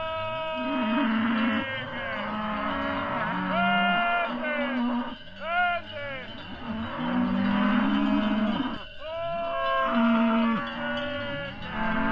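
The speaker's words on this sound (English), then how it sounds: "We have 200 Mertolenga cows, which is a cow that is very regional." Mertolenga cattle, a regional Portuguese breed, moo repeatedly in a chorus of overlapping long calls. Several animals low at once, close and loud, with brief pauses between bursts and no talk.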